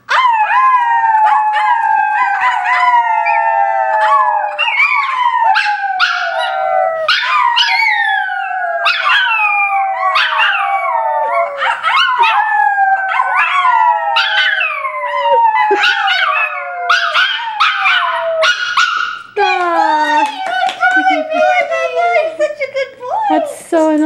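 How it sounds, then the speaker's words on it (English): Gizmo the dog howls repeatedly and loudly, long wavering howls rising and falling with yips mixed in, close and continuous throughout, with people talking now and then underneath. "that last one was a really good howl"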